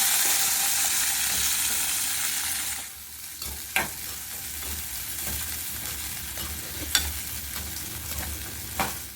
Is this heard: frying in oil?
yes